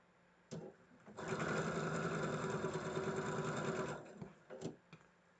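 A sewing machine stitching a row of a quilt block runs in a steady, fast whir for about three seconds, bracketed by short clicks and brief starts before and after.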